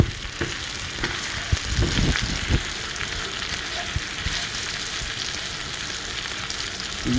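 Wagyu beef sears in a hot pan with its fat left in, giving a steady, close, dense frying sizzle with a few sharp pops and crackles early on and no talking.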